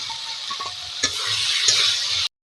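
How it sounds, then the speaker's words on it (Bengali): Fried potatoes added to a pan and stirred for a Bengali snail curry, a continuous sizzle with scraping stirs and light clinks, close up, ending abruptly. "এখন দিয়ে দিচ্ছি ভাজা আলুগুলি"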